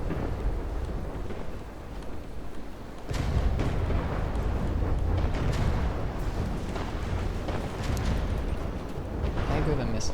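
Missile fire from a combat robot in a Newbie Rumble robot-fighting match arrives as loud, dense rumbling bursts that swell from about three seconds on and hold steady, with speech over the top.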